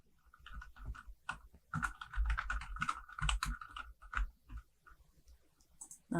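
Typing on a computer keyboard while entering text in a spreadsheet program, with irregular bursts of close, crisp key clicks, some passages dense and rapid and others sparse, and no talking.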